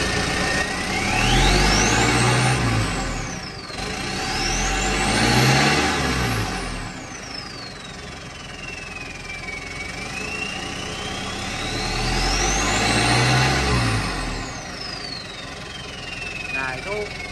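A Mitsubishi Canter Euro 4 truck with an aftermarket muffler and flexible exhaust is revved repeatedly, engine pitch and turbo whine rising and falling in three long swells over a low idle rumble, with someone talking over it.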